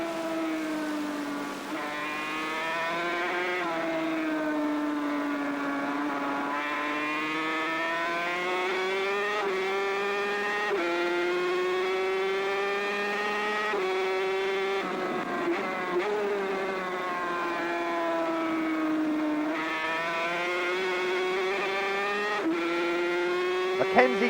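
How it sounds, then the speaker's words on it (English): A Grand Prix motorcycle engine screams at over 300 km/h on the circuit, heard from onboard as a sustained high-pitched wail whose pitch rises and falls through gear changes, loud and continuous, with no voices. "Bikes now touching speeds of over 300 kilometers per hour."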